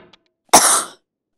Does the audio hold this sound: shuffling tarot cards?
no